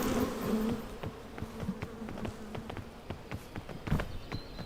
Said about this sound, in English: These bees will not let up.